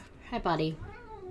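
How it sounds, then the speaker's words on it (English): A pet cat lets out a single short meow right beside a person who speaks a brief greeting at the same moment. "That's my cat."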